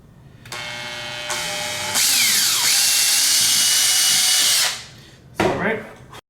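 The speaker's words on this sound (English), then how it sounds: "Just slowly drill it." A power drill boring holes in a Cookie G4 helmet, whining up in stages into a loud sustained high grind, then winding down, followed by a short second burst.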